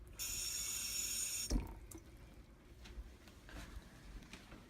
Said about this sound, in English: And add a tad bit of water.